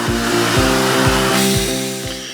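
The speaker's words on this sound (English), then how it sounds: "it is then extracted with the powerful truck-mounted equipment, which creates a lot more vacuum than portable equipment" Powerful truck-mounted extraction equipment vacuuming drapery, a loud steady roar with a deep rhythmic pulsing about twice per second, close and continuous with no talking.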